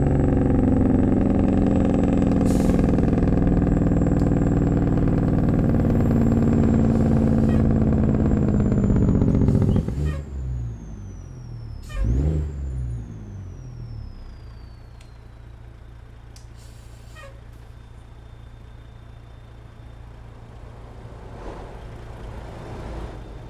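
A Detroit Diesel 60 Series truck engine from the Zeemods sound pack in a truck simulator game, loud and close: a heavy revving diesel roar that drops off, a couple of air-brake hisses and gear shifts, then settles into a low idle.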